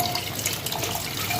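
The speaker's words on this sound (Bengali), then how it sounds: "তারপরে গরম জল দিয়ে ধোবো 2-3 বার।" Pieces of goat fat are rinsed under running water, a steady close splashing and trickling at a sink with no pauses.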